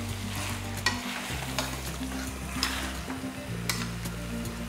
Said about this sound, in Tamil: சிக்கனையும் போட்டு ஒரு 2 நிமிஷத்துக்கு நல்லா வதக்கணும்.